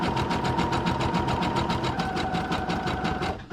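Sewing machine running a narrow zigzag stitch through paper, a close, fast and even mechanical chatter with a steady rhythm that slows and stops at the end.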